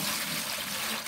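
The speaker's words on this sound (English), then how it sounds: "Two of them, I'm going to put about 2 inches of water in the bottom" Water pouring into an empty bucket, about two inches in the bottom, a continuous close splashing trickle, steady and fairly loud throughout.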